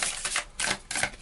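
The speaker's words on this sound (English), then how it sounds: "Let's go ahead and try to do a riffle shuffle." Tarot cards being riffle shuffled, heard as three quick bursts of dense, rapid paper flutter close up, with short pauses between them. No talking.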